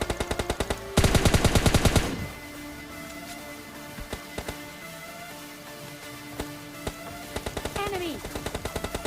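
Rapid automatic gunfire from a duo-versus-squad battle royale mobile game, loud bursts opening the clip with a dense burst near one second, then scattered single shots and short bursts over in-game ambience.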